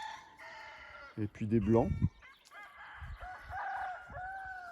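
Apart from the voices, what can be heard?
chickens and roosters clucking on a farm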